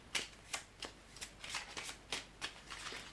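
Tarot cards being shuffled and laid out on a table, a soft, steady run of brushing, flicking card sounds in quick regular strokes, close and faint, with no talking.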